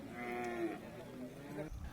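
A bull moos once at a busy cattle market, a drawn-out harmonic low call lasting most of the moment, set against steady crowd murmur and faint voices nearby.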